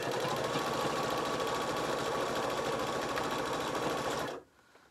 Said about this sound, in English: I'm just going to take it to the machine and I'm just going to come in by about 1/8 of an inch and just stitch along that edge